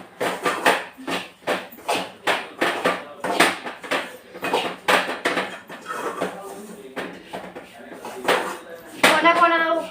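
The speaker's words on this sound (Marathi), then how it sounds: "थोडंसं 5 मिनिटं आपल्याला रवा परतून घ्यायचा ह्याच्यामध्ये." Semolina (rava) is roasted in a pan for upma, with a steady rhythmic scrape and clatter of a spoon stirring against the metal, repeating about twice a second, while someone talks.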